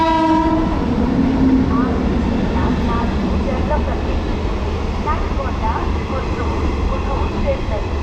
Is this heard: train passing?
yes